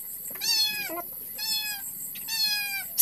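A cat meows three times in a row, each call clear and close with brief pauses between, over a quiet background.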